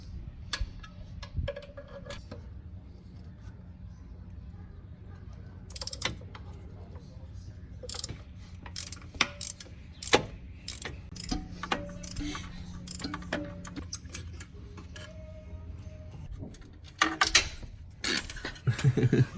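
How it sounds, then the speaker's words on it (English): Exhaust manifold bolts on a Challenger R/T cranked with a ratchet: sparse, sharp metallic clicks and ticks in irregular bursts over a low steady hum, growing busier toward the end. "now let's start cranking these manifold bolts"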